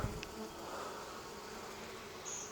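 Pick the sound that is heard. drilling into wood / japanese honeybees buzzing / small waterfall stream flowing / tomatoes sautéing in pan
japanese honeybees buzzing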